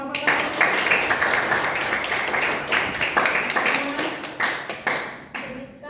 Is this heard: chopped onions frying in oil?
no